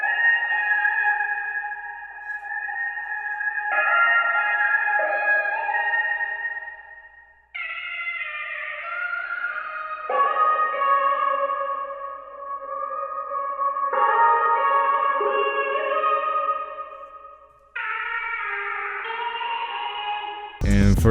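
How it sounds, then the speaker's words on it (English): Processed R&B vocal phrase loops from the Exhale plugin, drenched in reverb, play as sustained wordless sung lines that shift pitch every few seconds, with a brief loud burst at the very end. "Then I add other vocal phrases from Exhale in the R&B preset."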